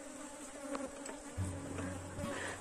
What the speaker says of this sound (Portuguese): E aqui mais um enxame que foi obtido dessa forma.